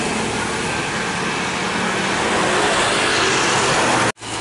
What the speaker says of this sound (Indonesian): Ciri khas bus Cikopoan kayak gini ya.